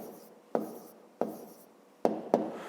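A pen writes numbers on paper during a fifth-grade maths exercise, four sharp taps of the tip landing at uneven intervals, each trailing into a quiet scratch, close and clear with no talk.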